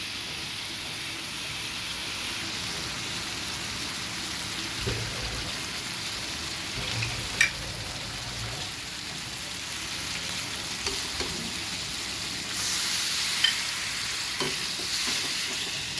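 Onions frying in oil with a little sugar for a prawn curry, a steady soft sizzle with occasional stirring clicks, moderately close and without speech throughout.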